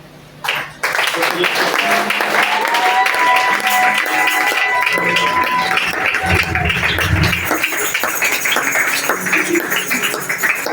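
Church congregation applauding and acclaiming in worship, a dense sustained wash of clapping and shouted voices that starts abruptly and holds steady and loud throughout, with tones and singing mixed in.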